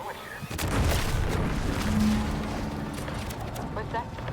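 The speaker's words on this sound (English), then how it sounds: "What's that? An explosion?" An explosion in the video game The Outer Worlds 2 hits with a deep, loud boom, then fades into a rumbling, crackling aftermath of debris and distant noise.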